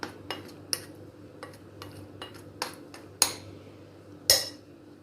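Spoon clinking and scraping against a metal bowl as baking soda and salt are stirred into flour for square layered paratha dough, a series of short sharp taps and two louder knocks, close and alone with no talking.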